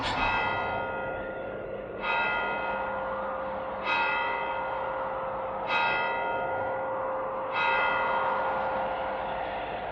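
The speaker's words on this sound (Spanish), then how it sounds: "Las 12 sonaron en el reloj del postigo." Four or more slow, deep tolls of a church clock bell striking midnight, each one ringing out and fading into a long resonant decay, fairly distant and alone.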